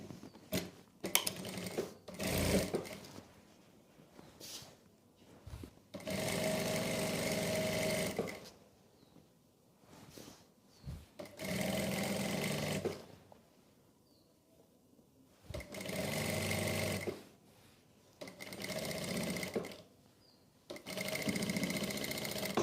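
A sewing machine stitches a salwar in several bursts of steady, rapid mechanical whirring, each lasting a few seconds, separated by quieter pauses with small handling clicks; no talking.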